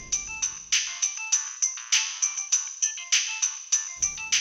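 A phone ringtone plays loudly and alone in a repeating electronic melody, bright chiming tones pulsing in a fast, regular pattern for several seconds.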